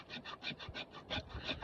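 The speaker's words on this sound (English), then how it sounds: "At this point, I would say use the spine as like a scraper" A knife spine rasps against dry wood to make fine tinder for a fire, a rapid, even series of close, faint scraping strokes, about six per second.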